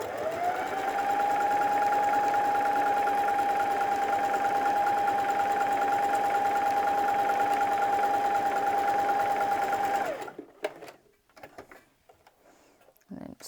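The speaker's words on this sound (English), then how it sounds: "So I'm going to line up my seam guide with the edge of my fabric and then just get sewing." A sewing machine running steadily with a constant whirring hum and high whine for about ten seconds while stitching patchwork fabric, then stopping, followed by scattered clicks and handling noises.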